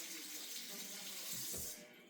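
Tap water runs over an onion in a kitchen sink, a close, steady splashing rush that thickens briefly as the stream hits the bulb and then eases off.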